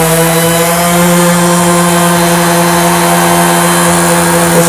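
A Makita random orbital sander runs steadily at close range, a loud continuous whine with a strong steady hum and no break for its full length.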